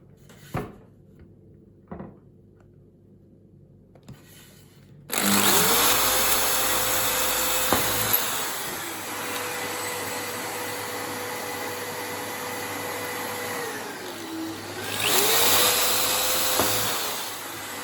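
Power drill boring screw holes into a wooden board for mounting stag's head coat hooks, a steady motor whine starting abruptly after a few light knocks and running for about twelve seconds with a brief dip in pitch near the end.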